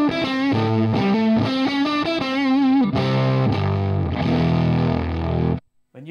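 An electric guitar plays through a warmed-up tube amp with a muddy, sagging, distorted tone: loud, thick chords and melodic notes ring out in a steady phrase for several seconds before stopping abruptly.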